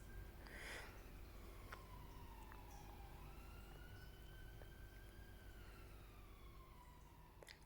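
Ambulance sirens wail faintly in the distance on a busy street near a hospital, the rising and falling tone sweeping slowly beneath steady traffic rumble.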